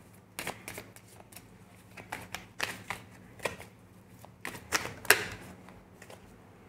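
Tarot cards being shuffled for a reading, a series of soft papery riffles and slaps in irregular bursts, close and moderately quiet, with no talking.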